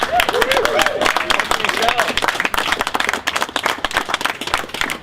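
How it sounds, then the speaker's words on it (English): A crowd at a summer canvass kickoff for a campaign finance reform drive claps and applauds steadily for about five seconds, with dense, even clapping and a few voices mixed in. "how about a round of applause for the great work that you guys are doing"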